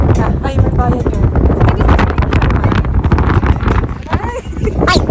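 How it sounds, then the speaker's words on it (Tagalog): Strong gusting wind buffets the microphone outdoors on a Nagoya city trip, rough low rumbling bursts running throughout, with people talking and exclaiming over it. "Hangin doon."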